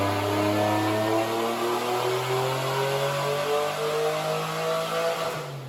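A supercharged 3800 engine in a Pontiac Fiero revs on a dyno, a loud sustained pull with pitch rising steadily under load, then dropping off at the end.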